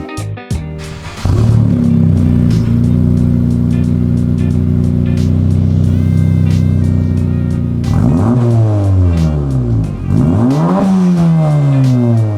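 A 10th-generation Honda Civic engine with an aftermarket exhaust, idling and then held at a loud, raspy rev before two sharp rev rises and drops, close to the microphone with no talking.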